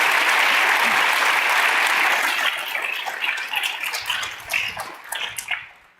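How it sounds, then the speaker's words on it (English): An auditorium audience applauds with dense, loud clapping at a public forum on gun violence, thinning out and fading away over several seconds. "let's give them another round of applause."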